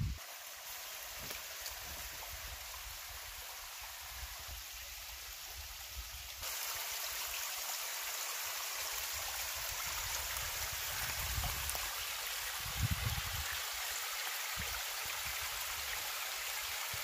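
Steady broadband rush of water from a stream and waterfall in an outdoor exploration area with a quartz carbonate vein, continuous and fairly even with no voices.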